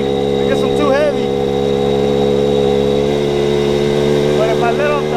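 Small cat-eye super pocket bike engine droning steadily at mid pitch while riding, loud and continuous throughout, with a voice faintly heard under it.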